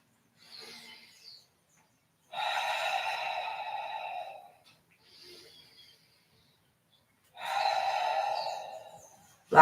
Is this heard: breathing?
yes